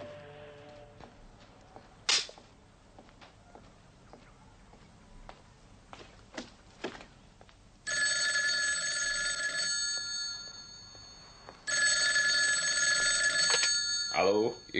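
An old-style telephone bell rings loudly in two long bursts with a pause between them, preceded by scattered sharp knocks and clatter in a quiet room.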